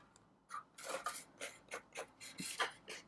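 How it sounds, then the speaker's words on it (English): Adhesive backing being peeled off craft paper and score tape, a series of short dry scratchy rips and rubs in quick bursts, close and quiet. "Take the backing off."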